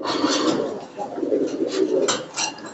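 A male pigeon coos in low, throaty bursts, close up, as it is lifted from its nest during brooding, with rustling and handling noise around it.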